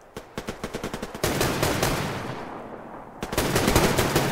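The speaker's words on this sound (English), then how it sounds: "the FPS sounds, the weapon sounds in this game are some of the best I've heard" Weapon gunfire in the online shooter game Survarium: a rapid burst of single shots, then sustained automatic fire with a long echoing tail and a second loud volley, all close and loud.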